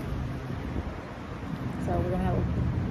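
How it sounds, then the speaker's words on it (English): Wind blows outdoors across the microphone as a steady broadband rumble, growing a bit stronger toward the end, with a faint tonal sound briefly near the middle. "It's kind of windy out here,"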